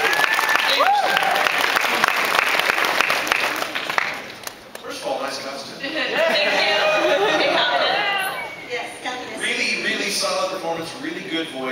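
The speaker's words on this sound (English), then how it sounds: "Give her a big round of applause." A singing-competition audience applauds after an audition, dense clapping mixed with crowd chatter and cheers that dips briefly midway, then swells again under voices.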